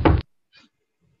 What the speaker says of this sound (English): Oh, somebody's knocking.